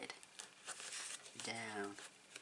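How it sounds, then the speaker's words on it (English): Tape is pulled, crinkled and pressed onto a handmade hardcover notebook, with close, rustling crinkles and light tearing sounds throughout and a short voiced sound partway through. "I am going to tape that down, and I'm also going to tape that side"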